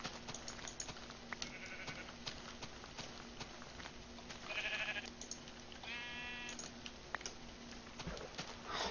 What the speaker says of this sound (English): And there's sheep everywhere